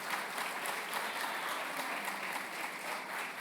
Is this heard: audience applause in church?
yes